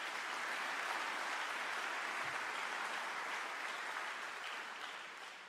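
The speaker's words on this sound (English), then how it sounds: "round of applause for Port City Church" Graduation ceremony audience applauds Port City Church, a faint, even wash of many hands clapping that slowly fades near the end.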